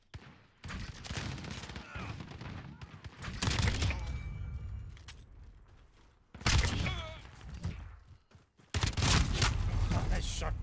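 Rapid bursts of shotgun fire and gunfire in a Call of Duty match, loud and repeated in clustered volleys with brief pauses, mixed with game noise and voices talking over it.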